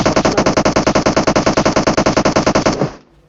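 Sustained automatic gunfire in the PUBG Mobile game, a rapid, loud, evenly spaced burst of about thirty shots over nearly three seconds, then cutting off abruptly into a short fading tail, with no talk.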